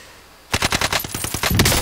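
Rapid automatic gunfire from a video game breaks out after a short quiet lead-in, a loud close burst of evenly spaced shots that runs on steadily to the end.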